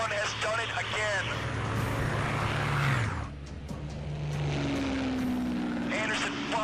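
A P-51 Mustang's propeller engine drones during a dogfight with a Me 109, its tone rising and falling as the plane maneuvers, with a narrator speaking over it.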